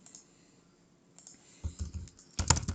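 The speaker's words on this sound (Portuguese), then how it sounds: "você vai ficar ouvindo muito tec-tec do teclado" Computer keyboard typing while HTML and CSS are edited, a quiet start followed by bursts of clicking keystrokes that grow louder and denser toward the end, with no talk.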